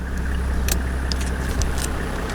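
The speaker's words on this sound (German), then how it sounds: "Auto läuft weiter. Der geht nicht mehr aus." A car engine idles steadily up close with a low, continuous rumble, still running with the key pulled and refusing to shut off, plus a few faint high clicks over the hum.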